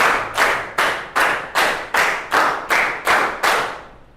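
Group hand clapping during a classroom concentration routine: nine crisp, evenly spaced claps in a steady quick rhythm, close and loud with no talking.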